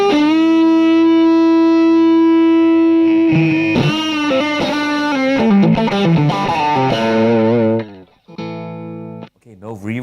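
A cranked electric guitar played through a maxed GTM 45 amp with a bright, sparkly clean-edge tone: a sustained chord, then a loud run of picked notes and strums, ending with brief choppy bursts and no reverb.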